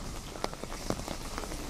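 Rain falls in Gdansk, patters and drips tapping on a nearby surface in an irregular scatter over a soft steady hiss, no speech.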